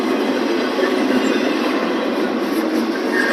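A CSX freight train rumbles steadily past at close range, a continuous broad roar of rolling wagons with faint rail rattle throughout.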